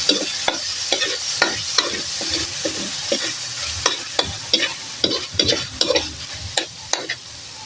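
Corned beef and potatoes sauté in a pan, a steady loud sizzle under repeated sharp scrapes and clicks of a spatula stirring at an uneven rhythm, close up and with no talk.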